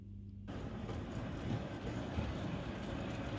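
An O-gauge model train runs back and forth on a home layout, giving a steady, continuous rolling rumble with faint clicking wheel noise that starts abruptly and holds at an even level throughout.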